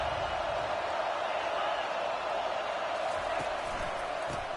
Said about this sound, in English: roar of the crowd trying to fuel this defense to keep them pinned in their own end